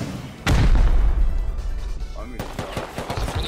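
Rockets fire and blow up in a survival shooter game during a large wipe-day raid, a sudden loud boom followed by a sustained rumbling roar and a quick train of sharp bangs near the end.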